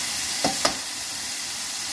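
Steak pieces sizzling in a hot pan for a stir fry give a close, steady frying hiss, with two quick scrapes or clinks as the meat is turned over.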